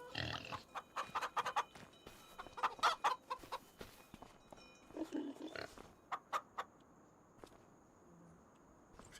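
Chickens in a video game cluck and squawk in quick irregular bursts, with scuffling and other farm-animal noises mixed in, fairly faint and without talk.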